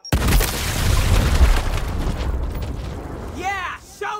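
A frag grenade in Gears Tactics detonates in a loud, rumbling blast that decays over a few seconds, followed by brief chirping effects, with a voice speaking over it.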